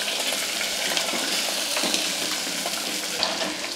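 Chopped shallots and garlic sauté in a hot oiled pan, giving a steady, close sizzle with faint scraping from stirring throughout and no talking.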